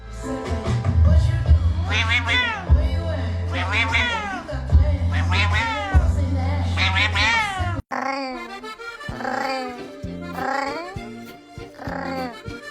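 A cat meows repeatedly, a run of drawn-out, rising and falling cries spread over several seconds, close and clear, with a brief break midway before more meows follow.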